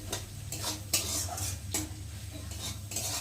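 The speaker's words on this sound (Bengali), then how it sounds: "ডিমটাকে দেখো খুন্তি দিয়ে ঝরঝরে করে নিয়েছি" A metal spatula scraping and stirring fried egg in a pan while making chowmein, producing repeated close clinks and scrapes over a faint low sizzle.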